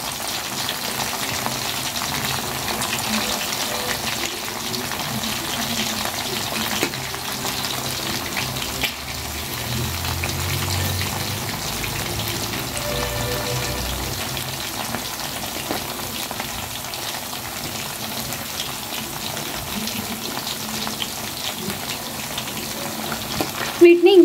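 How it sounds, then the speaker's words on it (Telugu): Chicken pieces frying over medium flame in a pan for street-style chicken fried rice, giving a steady, close sizzle and crackle that runs the whole time with occasional stirring sounds. "ఈ రకంగా ఫ్రై అవుతున్నాయి కదండి"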